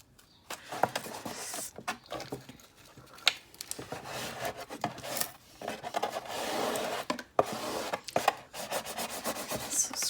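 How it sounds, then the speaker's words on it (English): Vinyl stencil transfer tape scraped down onto a painted wooden tray, giving close, uneven rasping strokes with scratchy rubbing and brief pauses and no talk. "So scrape that down, pull off the transfer tape."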